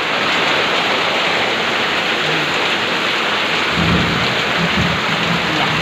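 Heavy rain in Quezon City pours down steadily in a loud, continuous hiss, with low rumbles underneath toward the end and no voices.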